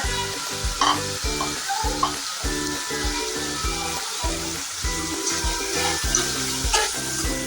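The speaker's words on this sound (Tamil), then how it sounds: "தக்காளி வதங்கும் போதே கூடவே சேர்த்து காயையும் வதக்கிக்கோங்க" Tomato and bottle gourd sauté in a pan for chutney, with a constant bright sizzle under brisk, rhythmic stirring strokes that scrape and knock against the pan, close and loud.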